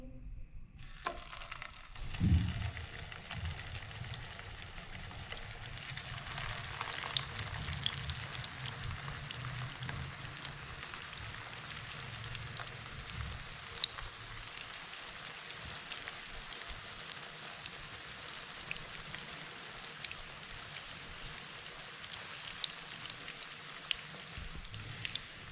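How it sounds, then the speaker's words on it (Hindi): Chicken potato kebabs frying in hot ghee over a high flame, a soft, even crackling sizzle like light rain that starts after a brief clatter and continues without speech. "अब हम इसमें कबाब फ्राई करेंगे।"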